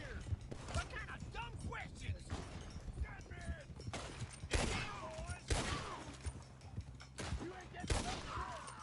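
Gunfire in the Red Dead Redemption II video game, with repeated sharp shots cracking out at irregular intervals over a busy background of movement and game sounds.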